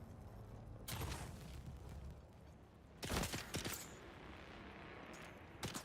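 Gunfire from an ability in Dune: Awakening: a few sharp bursts of shots, one near the start and a denser volley midway, with a faint crack at the end over quiet game ambience.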